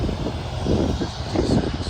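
Steady drone of a T-6 propeller airplane passing overhead, loud and continuous with a rumbling low end, swelling slightly as it goes by.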